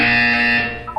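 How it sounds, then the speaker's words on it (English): A Portal 2 test-chamber buzzer sounds as a single loud, steady electronic tone that holds for nearly a second, then drops away, with a short fainter beep at the end. "You will hear a buzzer."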